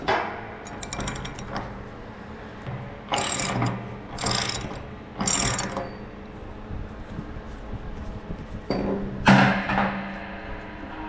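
A ratchet socket wrench clicks in short bursts while working a liquid withdrawal valve on a propane tank, with separate clusters of ratcheting and metal clinks between pauses, close up and with no voices.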